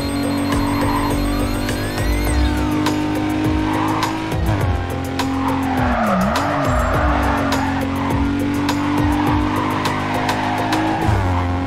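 Race car in the Need for Speed Carbon video game, its engine droning steadily while tires squeal and skid through long slides, loud and continuous with no talking.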